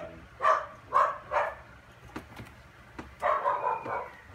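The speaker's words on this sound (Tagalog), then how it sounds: "hayaan muna natin kumahol yung aso ko." A dog barks close by in a house, three quick barks, a pause with faint yips, then a longer burst of barking.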